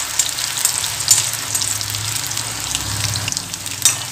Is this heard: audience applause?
no